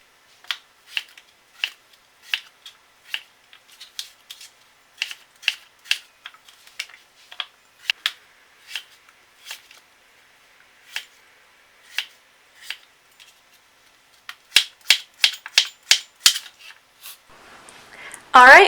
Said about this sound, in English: I just take the skin off with a knife and cut them into chunks.